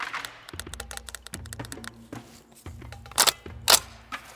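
Five loud, sharp reports from a Swiss SIG 551-2 LB SWAT rifle, spaced apart at close range, with each crack followed by a brief echoing tail.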